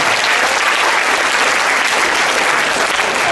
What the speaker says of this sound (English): one more big round of applause for our Goose Creek High School Spirit of Gold